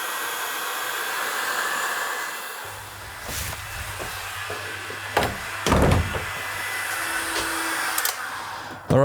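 A hot air blower heats the wheel hub of a BMW R80 motorcycle in a workshop, giving a steady close whooshing roar with a few knocks and bumps from handling partway through.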